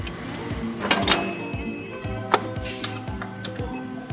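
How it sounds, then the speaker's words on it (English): Mechanical clunks and sharp clicks sound in an irregular series, close by, as a Ferrari's T-handle gear shifter is worked through its positions into reverse. "You hear all the clunking, clicking,"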